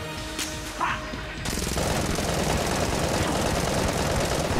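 Rapid gunfire from the bullet-hell game Enter the Gungeon, a dense continuous barrage that kicks in after a brief quieter opening and stays loud and steady to the end, with no talking.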